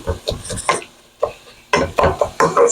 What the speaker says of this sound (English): So the onions are browning with the meat.